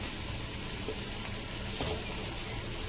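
Curry leaves and other pickle ingredients sauté in a pan, a faint, steady sizzle with soft crackles running evenly throughout.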